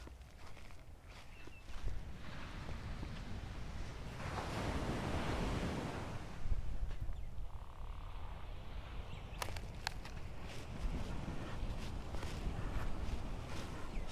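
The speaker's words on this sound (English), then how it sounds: "I don't know if you can hear the waves, and the sound is panning right through" Ocean waves wash steadily onto a quiet beach in Thailand, a continuous surf rumble that swells and recedes, with wind buffeting the microphone and a few light footsteps-like taps, no talking.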